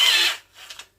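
A 6.5mm cobalt drill bit bores into a Laverda 750SS clutch bleed nipple, giving a loud, close, steady grinding whine for a short burst before it stops and a few faint scraping sounds trail off.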